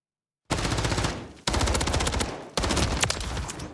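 Sustained automatic gunfire from a gunfight in Modern Warfare 3, loud and close, coming in three long bursts separated by brief gaps, with no talking.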